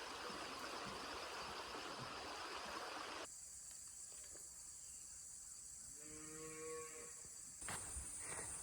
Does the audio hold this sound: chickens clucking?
no